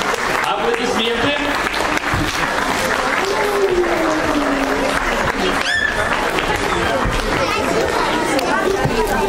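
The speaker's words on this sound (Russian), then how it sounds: "Аплодисменты" Audience applauding after a children's group performance at a house of culture, steady dense clapping throughout with crowd chatter and voices mixed in.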